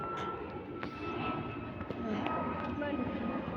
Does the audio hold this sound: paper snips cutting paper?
no